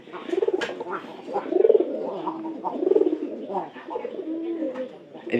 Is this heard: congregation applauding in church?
no